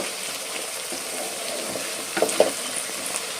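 Tomato softening as it fries in a pan, a soft steady sizzle with a few sharper clinks and scrapes of stirring near the end, no voices.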